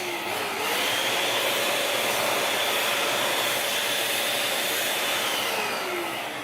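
A balloon inflator blows air into a gold foil star balloon, a steady, loud rushing hiss that runs alone for about six seconds with no talking.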